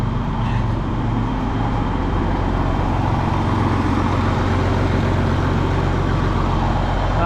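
An older John Deere 2390 tractor engine runs steadily in a continuous low diesel rumble, close by and loud, holding an even idle throughout with no voices.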